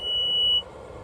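A single steady high-pitched electronic ignition beep from a Cat 299D3 XE skid steer rings out for about half a second, then cuts off, leaving low engine-like rumble underneath.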